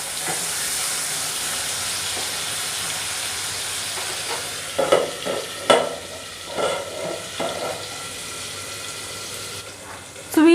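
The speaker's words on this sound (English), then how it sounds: "This will help the tomatoes to cook faster, and then I will stir it and then I will cover it for some time." Tomatoes sizzle steadily in a pan as a spoon stirs them, with a constant frying hiss and several scraping, clinking stirs near the middle.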